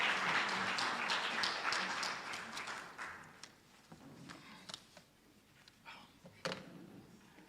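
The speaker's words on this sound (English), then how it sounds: "Colleagues, a round of applause for Dr." Seminar audience applause at an annual education and training event, a dense burst of clapping that fades after a few seconds into scattered claps and faint room noise, moderately distant.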